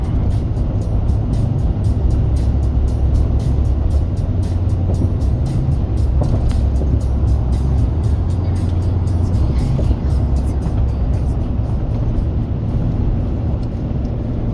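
Car cruising on the I-10 westbound highway near Eagle Lake, heard from inside: a loud, constant low road-and-engine rumble with tire hiss that stays even for the whole stretch, with no talking.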